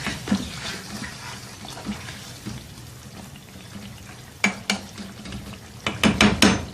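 A spoon stirs chicken karahi with spices, green chillies and julienned ginger in a pan, giving soft intermittent scraping and clinking strokes, with a cluster of sharper, louder clatters toward the end.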